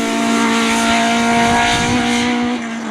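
A Class 2 Mark II Ford Escort race car at a hill climb roars close by at high revs, holding a steady loud engine note with a slight pitch shift near the end.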